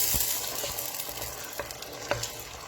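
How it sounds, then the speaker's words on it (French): Tomato paste frying in a pot for Senegalese thieboudienne, a dense, close sizzle that never lets up, with a few soft knocks of a spoon stirring it. "là j'ai mis la tomate, je vais laisser cuire"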